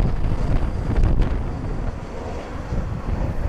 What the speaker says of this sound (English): Wind has died down a little bit. We're down to 31 knots on the gust.